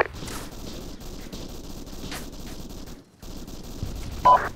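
Rapid machine gun fire in Arma 3, sustained bursts of gunfire rattling continuously at moderate distance, with a brief pause near the end before more shots resume.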